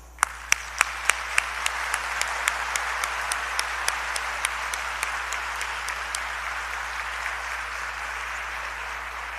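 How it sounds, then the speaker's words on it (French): A crowd applauds steadily, many hands clapping together in a dense, sustained wash that holds at an even level throughout. "nous exprimons cette joie de vous accueillir par un concert d'applaudissements"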